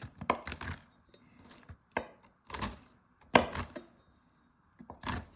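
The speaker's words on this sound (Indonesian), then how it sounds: "Ini kebetulan kacang yang saya punya di rumah adalah kacang mede, jadi kita potong kasar." A knife coarsely chops cashew nuts on a board for homemade energy bars. Several separate sharp, woody knocks land in loose bursts, close and fairly loud, with short quiet gaps between them and no talking.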